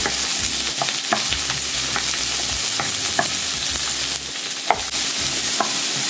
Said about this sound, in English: Okay, first I'm gonna stir fry the vegetables, the colorful vegetables.